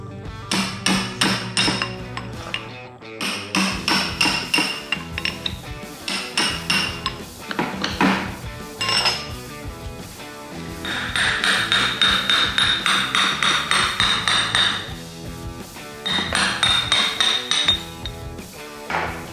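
Chisel used as a wedge, struck repeatedly with a hammer to drive off the brake hub on a Peerless 2300 differential; a steady run of loud, ringing metallic blows in quick rhythmic bursts, close up, with no talking.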